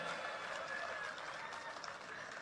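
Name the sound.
audience applause at a political speech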